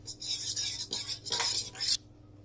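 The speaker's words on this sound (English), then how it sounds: "1 teaspoon of yeast in it. Then I am going to mix it now." Yeast being stirred into a dough mixture in a bowl for donuts: rapid, close scraping and clinking of a utensil against the bowl for about two seconds, then it stops and a low hum remains.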